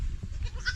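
A goat bleats once, briefly and close, while being fed, a short nasal cry near the end over a low background rumble.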